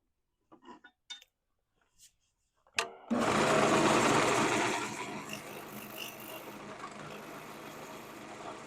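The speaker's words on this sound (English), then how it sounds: "I will go ahead and shrink this part of the tenon down a little bit" A woodturning lathe cuts down a wooden tenon: a few scattered clicks and knocks, then a loud, whirring motor hum with a grinding cutting texture that settles into a steadier, slightly quieter spin.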